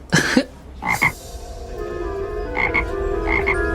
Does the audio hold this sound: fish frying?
no